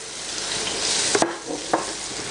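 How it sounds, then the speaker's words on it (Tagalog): Garlic and onion sauté in hot oil in a pan with a constant, close sizzle, punctuated by a few sharp clicks and scrapes of a utensil as it is stirred. "nagpainit na ako ng oil, igigisa natin yung ating garlic at onion"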